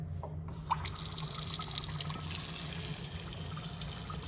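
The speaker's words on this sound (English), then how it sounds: "So when I turn on the water," Water running from a sink tap to drive a vacuum setup, starting with a gush and settling into a steady close rushing flow with faint clinks, no talking.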